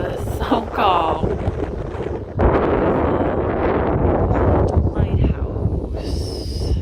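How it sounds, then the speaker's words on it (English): Gusty wind at a park in Harbor Beach, Michigan buffets the microphone in a loud, rumbling roar that swells and eases, with a few faint voices in places. "It's windy over here."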